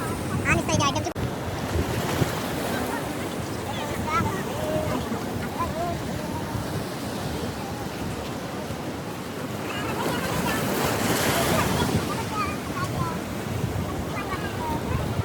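Steady roar of sea waves washing on the shore at Malvan, Konkan coast, with surges swelling and fading and wind rushing across the microphone.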